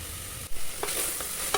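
Vegetables sautéing on a medium flame for a lunch-box vegetable rice, a low, quiet sizzle with a few soft scraping strokes of a spatula against the pan.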